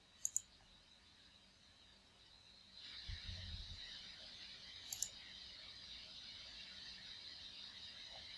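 Faint computer mouse clicks: a quick double click right at the start, then isolated single clicks later, each crisp and tiny against a quiet room hum.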